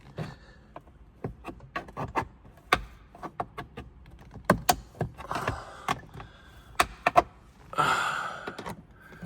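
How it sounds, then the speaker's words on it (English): A series of sharp plastic clicks and snaps as trim clips snap into place on a 2023 Lincoln Navigator, irregular and close, with some rustling and handling noise between them. "Sound like this side clipped back in"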